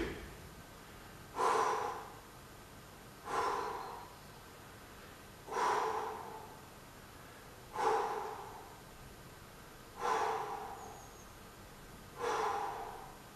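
Forceful breaths during a lower-body workout, six strong exhales at a regular pace of about one every two seconds, each sharp at the start and then trailing off, close and clear with no talking.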